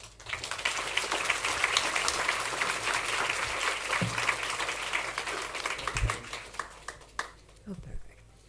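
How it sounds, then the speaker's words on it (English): A lecture audience breaks into sustained applause that welcomes a professor on stage. Many hands clap densely, then the clapping thins into scattered claps near the end, with voices faintly underneath. "Please join me in welcoming Professor Ruohola-Baker on stage with a warm round of applause."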